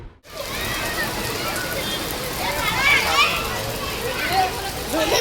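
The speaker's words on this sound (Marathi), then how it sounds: "किती जोरात पाऊस आलाय" Heavy rain pours steadily outside, a dense, continuous hiss filling the whole stretch, with children's voices chattering and calling over it.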